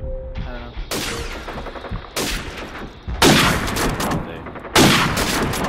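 Gunfire in Call of Duty 4, with loud sharp bursts of shots in several clusters over a steady game background, including rapid fusillades near the end.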